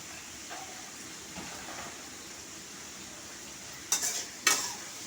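Peanuts, beans and potato frying in a pan give a soft, steady sizzle with faint stirring, then two sharp scraping stirs near the end.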